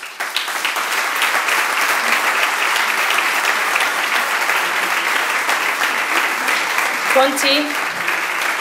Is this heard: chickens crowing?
no